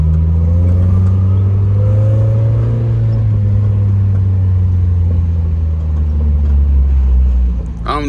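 Engine of an automatic project car in regular drive with worn, blown coilovers: a steady low rumble and hum throughout, smooth and moderately loud from inside the cabin, with slight pitch drift but no hard revving.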